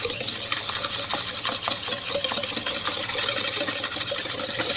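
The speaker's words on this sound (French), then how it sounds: "vous mettez donc 90 g de sucre avec 4 jaunes d'œufs et avec un fouet, vous allez faire mousser le tout." A whisk beats 90 g of sugar with four egg yolks in a bowl, making a steady, rapid, continuous scraping and swishing that is close and fairly loud, with no talk.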